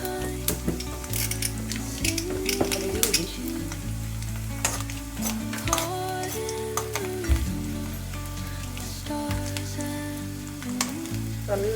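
Urad dal frying in a pan for ragi vermicelli upma, a loud close continuous sizzle with frequent spoon scrapes and clinks against the pan, stirring sounds recurring throughout.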